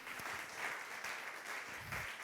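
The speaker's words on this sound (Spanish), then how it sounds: "Den un aplauso entonces al Señor si lo crees conmigo." A church congregation claps for the Lord during a sermon, a steady patter of many hands sustained across the room at moderate distance, with no talk over it.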